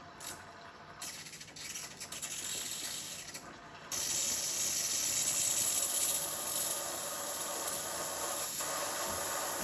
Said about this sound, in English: if you turn the dial the other way, it'll give you steam